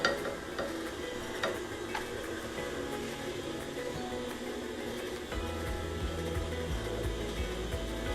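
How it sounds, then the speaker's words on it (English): A basil and tomato sauce with chunky tomatoes is stirred in a pot, soft scraping and clicking of the spoon over a steady simmering sizzle, with no talking. "So I'm going to stir this."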